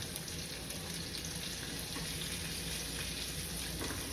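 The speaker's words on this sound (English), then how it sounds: "add in my other vegetables, which we already went over, which are the carrots, the garlic, the onion" Carrots, garlic and onion sizzle and fry in a pan with a dense, steady crackle throughout, fairly quiet and without any voices.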